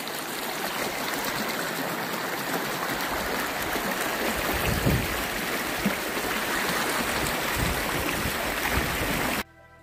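A high, swollen river on a farm after a hurricane rushes in a steady, dense roar of flowing water, close and continuous for nearly ten seconds before cutting off at the end.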